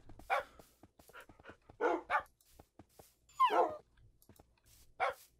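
Several dogs barking and yipping in a video game, short sharp barks scattered across the clip with one longer whining yelp near the middle, close and fairly loud with no talking.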